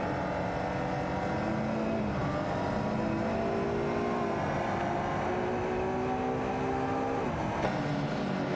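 Race cars roar continuously in a racing video game, several engines droning and shifting pitch as they accelerate, loud and steady throughout with no talking.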